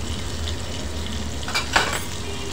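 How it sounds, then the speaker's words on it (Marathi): Drumstick and potato sabji sautéing with spices in a pan, a steady low sizzle with a couple of brief stirring scrapes near the end. "छान परतून घ्यायचं आहे"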